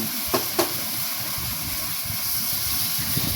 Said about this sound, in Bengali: কড়াই তেল গরম হয়ে দিয়ে আমি এখানে ঝিঙে আগে ভেজে নেবো